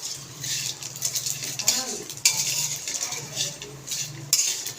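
Anchovies fry in oil in a pan while a utensil stirs them, giving repeated metallic scrapes and clinks over a soft sizzle, close by, with occasional speech in between.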